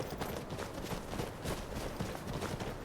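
Horse hooves clip-clop steadily in Skyrim, a dense, close rhythm of hoofbeats moving at pace over ambient noise, with no voices.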